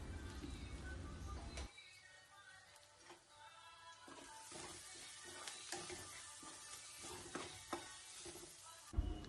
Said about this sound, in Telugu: అది మంచిగా ఫ్రై చేసుకోండి.